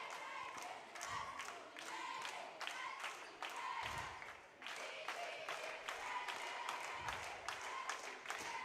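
Spectators at a high school boys' varsity basketball game roar and applaud steadily after a big shot, a dense wall of cheering and clapping with occasional low thumps that lasts the whole stretch.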